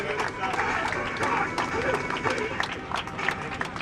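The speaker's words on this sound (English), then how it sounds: "Can we have a round of applause, please?" Audience applauding at an Independence Day prize ceremony at Mangaluru International Airport, a steady patter of many hands clapping at moderate distance for a few seconds.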